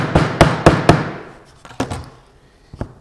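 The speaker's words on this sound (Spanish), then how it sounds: "con el martillo" Hammer taps on an MDF door panel being fitted into glued grooves during door assembly: four sharp, loud knocks in quick succession, then two more spaced hits and a final fainter tap, close by with no talk.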